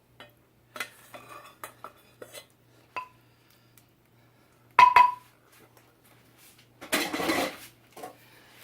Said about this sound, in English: I take my oven dish, I transfer it to the oven dish.